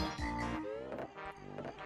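Croaking toad from Banjo-Kazooie, a short warbling croak with wavering pitch over game music, brief and moderately loud, with no speech.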